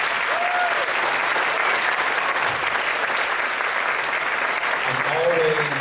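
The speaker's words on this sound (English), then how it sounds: "Parents, can we give our band instructors and our music department a big round of applause?" Sustained applause from parents in the audience at a sixth-grade school band concert, a dense steady wash of clapping throughout with a few faint voices mixed in.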